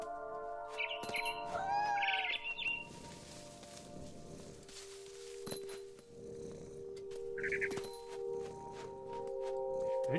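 A small bird chirps in What Remains of Edith Finch, heard from the point of view of a cat, with short bright tweets near the start and again later over a soft ambient drone and faint rustling steps.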